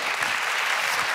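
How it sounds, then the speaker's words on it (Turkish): A burst of dense, sustained applause from a TV game show studio audience, steady and loud from start to finish. "Kocaman alkış, buyurun."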